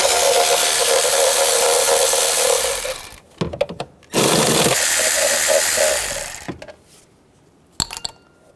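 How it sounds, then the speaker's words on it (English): A 10mm socket on a ratchet or power driver works bolts loose from the engine cover of a 2007-11 Honda CR-V, with loud whirring bursts broken by pauses, clicks and small metal clatter. "There's 10mm bolts right here and here. Use a 10mm socket."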